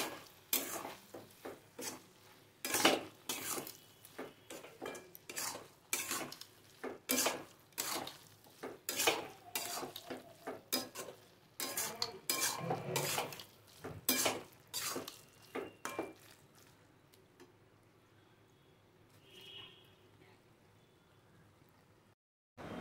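Banana flower curry with chickpeas being stirred in a pot, a long series of close metallic scrapes and clinks of a spoon against the pot in an uneven rhythm over faint sizzling, tapering off into quiet for the last stretch.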